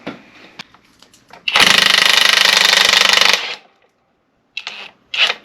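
An air impact wrench rattles loudly on a motorcycle bolt in a garage for about two seconds, a fast hammering burst set between quieter clinks and handling noises.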